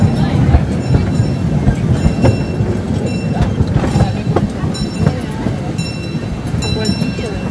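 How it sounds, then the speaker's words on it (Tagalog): Train rolling out of a station at Europa Park amusement park, a steady broadband rumble with clicking wheel sounds and occasional squeals, loud and continuous, with people talking faintly in the background. "alis na yung train"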